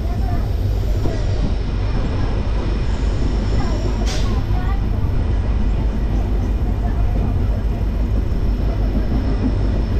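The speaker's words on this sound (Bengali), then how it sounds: "আমাদের ট্রেন চালসা ছেড়ে দিল" Inside a general coach of the Dooars Vistadome tourist train leaving Chalsa through forest, a loud, continuous rumble of wheels and carriage noise fills the whole stretch.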